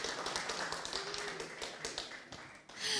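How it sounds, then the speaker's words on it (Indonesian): A studio audience at a health-talk event claps, scattered uneven hand claps and taps swelling and fading, with a louder burst of applause at the very end. "tepuk tangan dong untuk kita semuanya"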